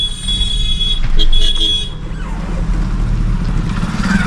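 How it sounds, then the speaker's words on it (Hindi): A car horn sounds on a narrow road with a tractor ahead, a held tone lasting about a second at moderate volume over engine and road noise, with someone talking close by. "अब यहाँ पे लॉन्ग हॉर्न प्रेस करेंगे फिर से"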